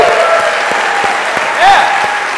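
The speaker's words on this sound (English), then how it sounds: "How about a round of applause again for our 10 finalists?" A crowd applauds the 10 finalists at a 2014 fast pitch competition, with steady, dense clapping throughout and a brief whooping cheer rising over it near the end.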